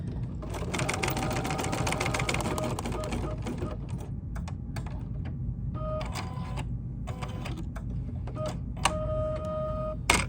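An embroidery machine basting a baseball cap runs in rapid rhythmic bursts of needle stitching with brief pauses and clattering, heard up close and on its own.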